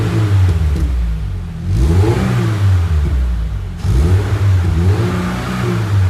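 A Subaru BRZ fitted with an FGK single-exit mid-tail exhaust revs twice with close, loud throttle blips, each rising growl falling back to a throaty idle between pulls.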